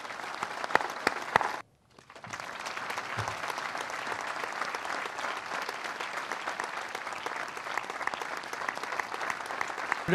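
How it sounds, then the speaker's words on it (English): Steady, even applause from a large audience honoring soldiers at a 101st Airborne Division change of command ceremony, briefly dipping near the start and then continuing unbroken. "Please join me in a round of applause for these great heroes."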